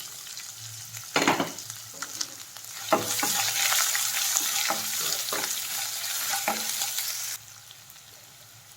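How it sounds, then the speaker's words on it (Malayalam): Chopped onion sizzles in hot oil with mustard seeds in a pan, a steady close crackle broken by clattering stirs, then quieting toward the end. "ആദ്യം ഉള്ളി ഇട്ടൊന്ന് വഴണ്ട് വരണം"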